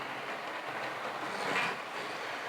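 Model railway locomotive hauling its train slowly around a curve, a soft steady rolling rumble with light clicking and a brief faint squeal midway.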